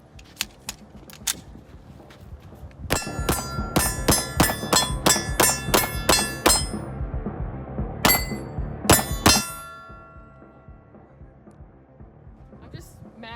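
A ZEV OZ9 pistol fires a rapid string of shots at steel targets, with sharp cracks and ringing clangs in quick succession, a short pause, a final few shots, and then a fading ring.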